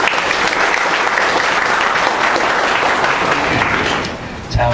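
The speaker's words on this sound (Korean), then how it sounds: "수고한 우리 시약 공동체에 격려의 박수 한번 하겠습니다." Applause from a church congregation during a service, dense and steady clapping filling the room for about four seconds before tapering off abruptly.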